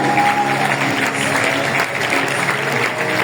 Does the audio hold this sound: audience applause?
yes